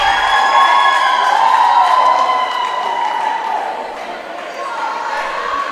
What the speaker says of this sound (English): I'm not sure what they were cheering